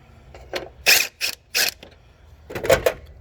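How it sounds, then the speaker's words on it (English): A size 10 socket ratchet loosens the battery bracket on a 2010 Honda Pilot, giving several short, close bursts of clicking ratchet strokes with brief pauses between them. "using the size 10, we're going to go ahead and loosen up this battery bracket"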